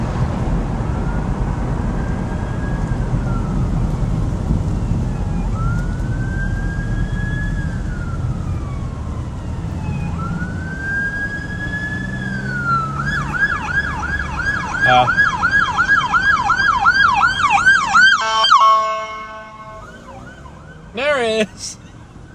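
A wailing siren rises and falls in the distance during a tornado-threat storm in Montana, then grows louder and switches to rapid yelping as an emergency vehicle passes; a voice speaks briefly.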